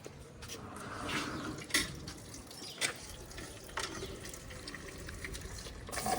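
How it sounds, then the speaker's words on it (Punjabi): Water pours steadily into a container of buffalo milk nearby, a soft continuous trickle with a few splashy surges and light knocks. "ਇਸ ਵਿੱਚ ਪਾਣੀ ਖੁੱਲਾ ਪਾਉਂਗੀ"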